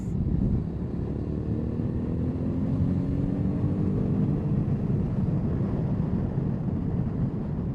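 A Suzuki V-Strom 650 XT, freshly washed and with its chain just adjusted, on a test ride: a steady low engine drone under constant wind roar, with faint rising engine tones as it pulls along.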